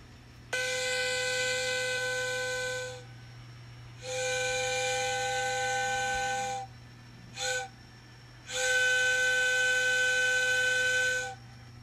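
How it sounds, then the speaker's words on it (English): A caboose whistle on an N scale model train switching layout, sounding as three long steady tones broken by one short toot, over a constant low hum. "and actually had a caboose whistle"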